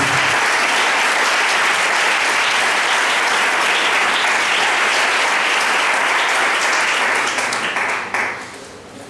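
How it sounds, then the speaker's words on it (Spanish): A church congregation claps loudly and continuously for about eight seconds, a dense full-room burst of applause heard alone that fades out quickly at the end. "Denle un aplauso al Señor."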